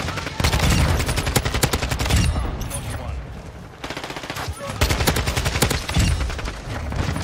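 Rapid bursts of Kastov-74u automatic gunfire in Modern Warfare 2, loud and close, firing in dense rattling strings with a brief lull in the middle.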